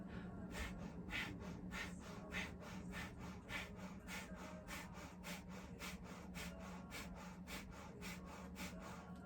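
Breath of fire yoga breathing: a quiet, steady, rapid rhythm of forceful nasal exhales, roughly two per second, continuing evenly without any talking.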